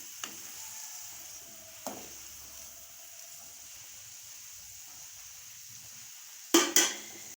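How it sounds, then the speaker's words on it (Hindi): Chicken Kabuli pulao is stirred in a pot to keep it from burning, giving a soft steady sizzle with a few sharp scrapes and clanks of the spoon against the metal, two louder clatters near the end. "ये देखिए कि माँ जी अब इसको हिला रही हैं"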